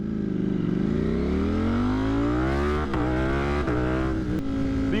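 A motorcycle fitted with an aftermarket eBay exhaust revs up loud and close, its throaty engine note climbing steadily in pitch across several seconds, then blipping with short throttle dips near the end.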